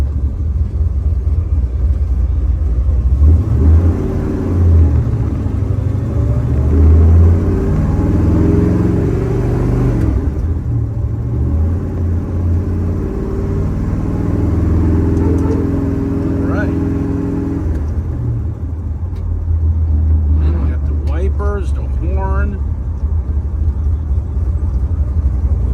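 A 1963 Chevrolet Impala with a big block engine and four-speed gearbox drives along, its deep steady engine rumble rising and falling through gear changes, with someone talking over it throughout.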